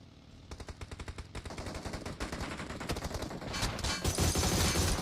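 Rapid automatic gunfire in the battle royale game Free Fire, a dense stream of loud shots that builds into an overlapping, sustained barrage toward the end.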